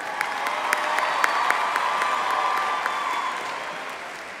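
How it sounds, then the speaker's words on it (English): Audience applause for the State FFA Choir fills a convention hall at the California FFA State Convention, a steady wash of many hands with a few sharper claps standing out, fairly loud and alone throughout. "Let's give one more round of applause to the State FFA Choir"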